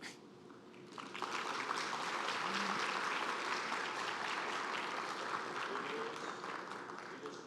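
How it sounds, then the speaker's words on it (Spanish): Audience applause for a Peruvian magistrate after her lecture, rising after a second into steady, sustained clapping from a sizable room that holds evenly to the end. "Fuerte aplauso a nuestra expositora"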